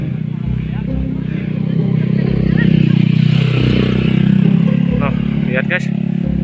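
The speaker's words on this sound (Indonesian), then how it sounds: "ada motor nih guys." A motorcycle on a hill road at the edge of a ravine in a mountain village, its engine droning close and loud, swelling as it passes, with someone talking over it.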